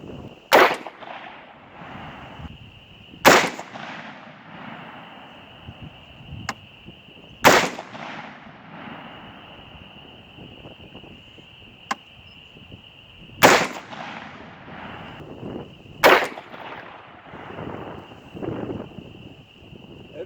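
Rifle firing cast 5.56 bullets loaded with 22 grains of Winchester 748 at a 50-yard outdoor range, five loud sharp reports spaced several seconds apart, each ringing briefly, with a steady electronic tone and wind in the background.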